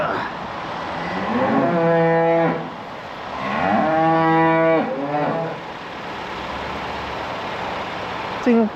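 Cattle lowing inside a farm shed during calf handling: two long, loud, deep moos with a third shorter one, followed by quieter barn ambience.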